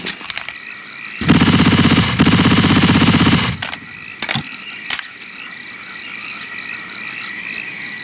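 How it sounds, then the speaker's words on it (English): A machine gun in Left 4 Dead 2 fires one loud, close burst of rapid shots lasting about two seconds, followed by a few isolated single shots, over a quiet background of insect and frog chirps. "Going with the machine gun."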